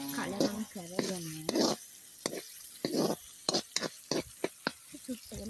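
A spoon scrapes and stirs turmeric through food frying in a pan, irregular clacks and scrapes over a soft sizzle, with a voice speaking at the start.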